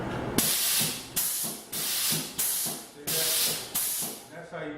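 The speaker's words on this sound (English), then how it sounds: "this is a pneumatic press" Loud bursts of hissing air from a pneumatic lemon press, about six in a row, each cutting off sharply before the next begins.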